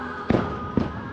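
Two distant fireworks bursts boom over Disney World's Magic Kingdom about half a second apart, each a muffled thump over a steady ride hum.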